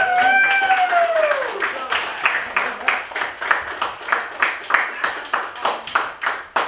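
A small audience claps in a loose, sparse rhythm, with individual hand claps distinct and close, after a brief voice at the start.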